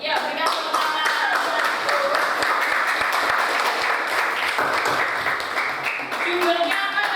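A classroom audience applauds after a poem reading, steady full clapping that carries on through the whole stretch, with voices faintly mixed in.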